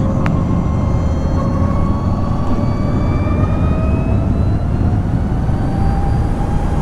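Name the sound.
electric motor whine of LiveWire ONE electric motorcycle riding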